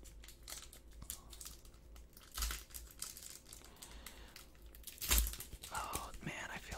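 Crinkly plastic wrapper of a Yu-Gi-Oh! Legendary Collection Kaiba card pack being worked open up close, with soft continuous rustling and two sharper crunching bursts over a quiet background.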